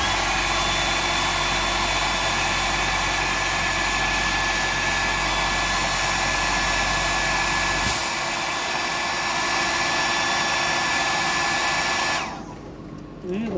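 Hair dryer blowing on freshly painted fly-fishing lures, a loud, steady whooshing drone close to the microphone that shifts pitch partway through and then switches off near the end.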